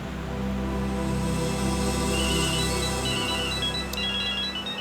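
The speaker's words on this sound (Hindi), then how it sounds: "अरे फोन बज रहा है आपका।" A mobile phone rings with a steady electronic tone pattern, loud and close, repeating melodic beeps over a sustained background hum.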